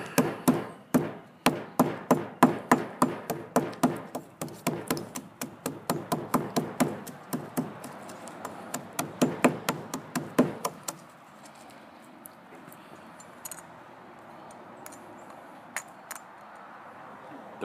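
A hammer strikes white walnuts again and again to knock off their husks, delivering a rapid, regular run of sharp, close knocks that stops about two-thirds of the way through and leaves quiet background noise.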